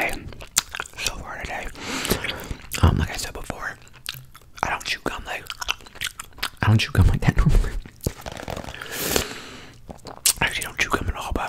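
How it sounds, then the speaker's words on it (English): Gum chewed close to the microphone, intense and aggressive, with wet smacking, biting and crunchy snaps in a fast irregular rhythm, heard under soft whispering. "it might be a little bit more intense than it would normally be if I was just chewing gum"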